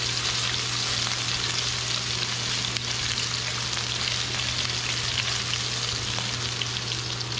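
Steady, close sizzling of ginger garlic paste frying in hot oil, a dense crackling hiss with a low hum underneath and no talking.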